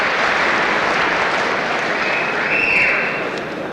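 A boxing arena crowd applauds and cheers steadily after a lively round, a dense, continuous wash of clapping and noise that stays loud throughout and eases slightly near the end.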